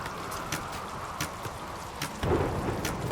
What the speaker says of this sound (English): Hopefully the thunderstorm that's going on doesn't